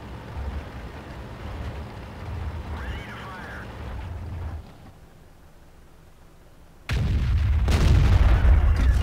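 A Kanonenjagdpanzer tank destroyer in World of Tanks fires: low engine rumble and a faint voice give way to a quiet pause, then a loud heavy cannon blast with sustained roaring decay.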